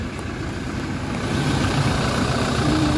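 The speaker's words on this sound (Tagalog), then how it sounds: "Okay, so check natin yung makina guys." A Toyota Fortuner with a 2GD diesel engine idles steadily, a low, even rumble heard up close, alone and unchanging apart from a slight rise in loudness partway through.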